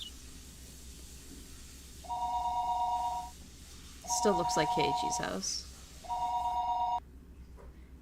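A telephone rings in the Higurashi visual novel, three long electronic trills spaced about a second apart over faint background hiss, while a voice speaks over the middle ring.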